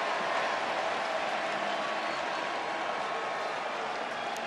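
A large baseball stadium crowd applauds and cheers steadily throughout, a dense continuous roar of clapping with no break, late in the final inning of an Athletics game in Oakland.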